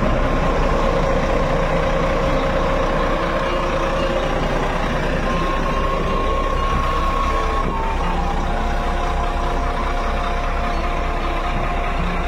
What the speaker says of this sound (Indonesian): Ini nyala nih ya, mesinnya lagi hidup. Dengarkan deru mesinnya.